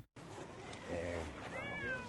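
A single cat meows in a scene from a TV war drama series, a close, clear, drawn-out cry lasting under two seconds.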